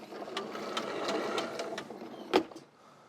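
An Aquor 80 ft retractable hose reel winding its hose back in, a steady whirring mechanical rattle with rhythmic ticks, ending in a sharp clack as the hose docks, then near silence.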